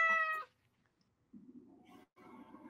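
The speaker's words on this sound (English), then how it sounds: "Oh, a cat." A cat meows close by, with a clear, pitched call at the start followed by two lower, rougher meows after a pause.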